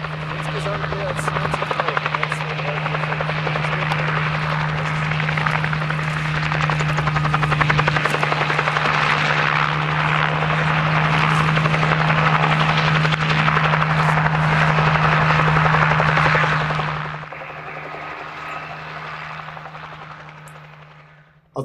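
Helicopter rotors thump loudly and continuously nearby as helicopters chase wild horses during a roundup, a rapid chopping drone that fades and moves off toward the end.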